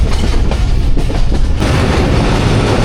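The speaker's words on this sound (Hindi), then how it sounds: "दरिया सिंध इंडस रिवर से गुज़रने लगी है हमारी ट्रेन।" The Hazara Express crosses an old bridge over the Indus River, a loud, continuous rumble of wheels and rattling carriages heard from on board, with rhythmic clatter throughout.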